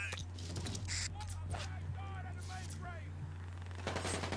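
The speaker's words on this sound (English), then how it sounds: "who the fuck is shooting at me?" Gunfire crackles in the online shooter Brink, with fast bursts and scattered shots under game sound effects and a constant low hum, and no talk in this stretch.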